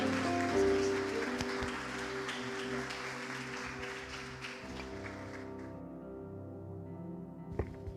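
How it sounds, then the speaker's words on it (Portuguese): A church congregation applauds in a steady, fairly soft wash of clapping that holds for several seconds before fading, with musical tones ringing underneath and a single sharp knock near the end. "Você pode aplaudir o Senhor pela vida do pastor Cristo?"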